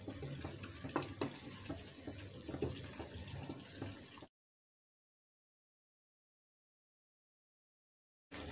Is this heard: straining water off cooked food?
yes